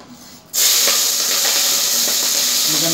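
Chili peppers dropped into hot oil for cooking freshly gathered clams, a sudden loud sizzle that bursts in after a quiet moment and then holds as a steady close crackling hiss.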